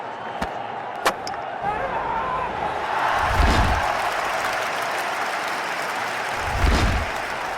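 A big cricket stadium crowd applauds and cheers continuously during a Champions Trophy match between Australia and India, with swelling roars and a few sharp claps or thuds above the dense noise.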